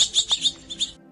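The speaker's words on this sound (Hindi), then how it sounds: "और इतना कहते ही सारे तोते वहां से उड़ गए।" Parrots chirping as the flock flies off from a tree in a children's bedtime story: a quick series of high, bright tweets in short bursts, close and clear with no talking.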